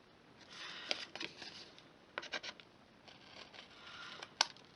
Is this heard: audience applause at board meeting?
no